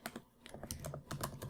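Quick, light clicks of typing on a computer keyboard, close and fairly quiet, in an irregular run of keystrokes with no talking.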